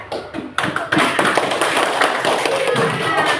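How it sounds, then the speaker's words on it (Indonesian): Schoolchildren in a classroom clap for a classmate: a burst of quick, close hand claps and taps that builds after half a second and carries on loudly, mixed with children's voices. "Coba tepuk tangan dulu buat temannya"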